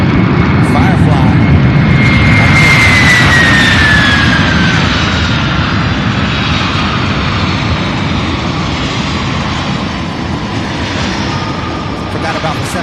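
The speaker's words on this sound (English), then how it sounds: "This one here, UPS flight 2845. Arriving here after a 3-hour, 5-minute flight in a 24-year-old jet" A 24-year-old UPS Boeing 767 jet arriving at Louisville's UPS Worldport roars loudly and close, with a descending whine sweeping down over the first few seconds, then the rumble slowly eases as it passes.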